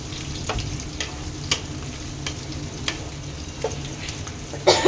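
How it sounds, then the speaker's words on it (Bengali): Onions fry in oil with a bay leaf and cumin for mutton kosha, giving a steady close sizzle with a few sharp spatters and a louder crackle near the end. "পেঁয়াজটা আমি লাল লাল করে ভেজে নেবো।"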